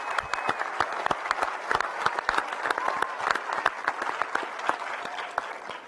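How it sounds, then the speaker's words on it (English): Dense, loud applause from a live audience at a NASA and Axiom event unveiling a new spacesuit for the Artemis III mission, with many hands clapping steadily through the whole stretch. "Let's do another round of applause for everyone."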